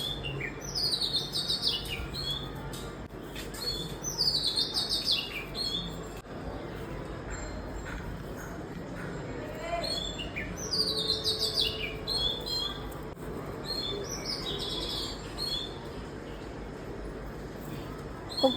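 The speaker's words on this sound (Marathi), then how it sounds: "बाहेर बघते तर काय मस्त चिमण्यांचा चू चालू आहे" Sparrows chirping outdoors in repeated bright bursts over steady background noise, moderately close, with no talking.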